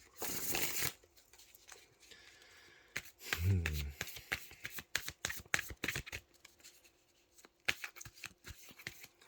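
Tarot cards are shuffled by hand in a quiet room: a burst of riffling at the start, then a long series of crisp, irregular card slaps and flicks, close and clear, with a brief low thump partway through.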